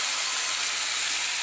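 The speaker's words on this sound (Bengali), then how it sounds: "কালো জিরে ফোড়ন দিলাম তেলের মধ্যে" Nigella seeds hit hot oil in a pan with a loud, bright, steady sizzle, a close and continuous hiss with no talking over it.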